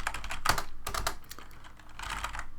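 Keys clatter on a computer keyboard while VLAN configuration commands are typed into a network switch, in quick irregular bursts of sharp clicks, close and alone with no talking.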